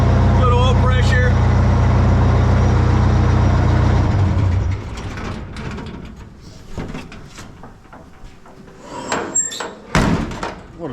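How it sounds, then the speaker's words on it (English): A race truck engine idles after warming up, a loud, deep steady rumble for the first few seconds. It then drops away to quieter clunks and door-like bangs, with a voice talking over it. "I just love the way this motor runs."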